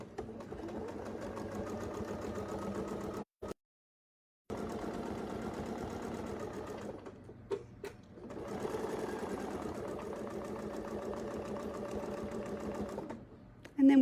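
A sewing machine stitches a quilt border along a Westalee template in a steady, fast mechanical whir. It cuts out twice for brief silences, and quiet talk runs alongside it.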